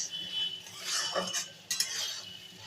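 Prawns in poppy seed paste with onion, ginger-garlic paste, cumin powder, turmeric and salt are stirred in a pan, with soft scraping strokes, faint sizzling and a couple of light utensil clinks, close and quiet.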